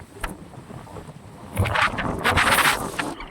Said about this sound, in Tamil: காற்று பயங்கரமாக